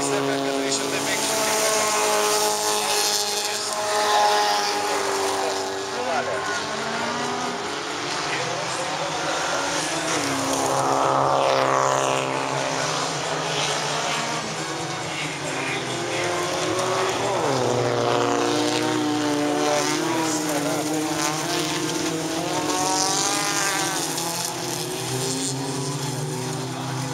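Identical race cars on a circuit, number 37 pressing hard to overtake for third place, their engines a loud continuous roar with rising and falling revs, running under a commentator's steady voice throughout.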